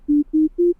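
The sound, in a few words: simple polyphonic synthesizer sine wave note with ramped envelope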